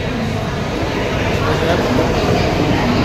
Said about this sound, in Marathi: तर चला आपली ट्रेन आलेली आहे घाटकोपरला.